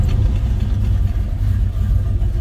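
A 1964 Mercury Comet Caliente engine idles on a cold start, a steady low rumble that holds even and close with no revving.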